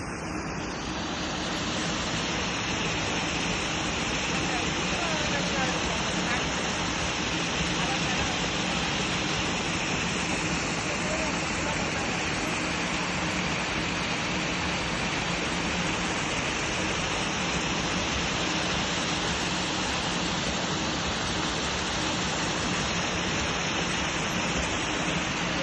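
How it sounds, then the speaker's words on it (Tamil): Water pouring steadily into a pond at Blausee, Switzerland, a loud, unbroken rushing wash that holds at the same level throughout, with no other sounds standing out. "அந்த குளத்தை தண்ணி பாயிற இடத்த பாருங்க."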